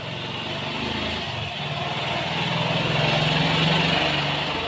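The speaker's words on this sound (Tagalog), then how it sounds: "talaga maingay po ang mga sasakyan" Traffic noise from passing vehicles in a hilly area of Ephraim fills the scene with a steady broadband roar and low engine rumble, swelling slightly louder toward the end with no speech over it.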